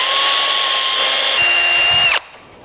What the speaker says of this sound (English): I just pull that wire straight, and then I let the drill do the rest.